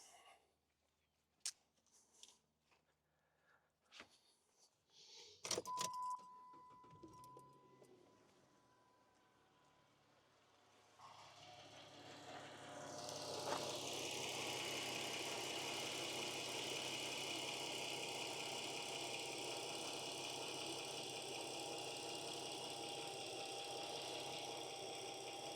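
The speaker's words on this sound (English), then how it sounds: "Let me go start it again." A Chrysler 300 with no A/C and multiple fault codes cranks and fires up after some clicks and knocks, then settles into a steady, fairly loud idle that continues to the end.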